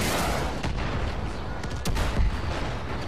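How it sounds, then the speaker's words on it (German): Loud, continuous rumbling blasts and crackling booms fill the whole stretch, with a sharper burst near the end, like explosions and gunfire in the game Far Cry 5. "Alter, die Explosion."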